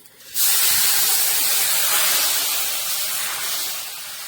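Liquid hitting a hot Cuisinart FusionPlus stainless steel grill pan to deglaze stuck-on food, a sudden loud burst of hissing steam that starts abruptly and holds steady, slowly easing off, close and alone.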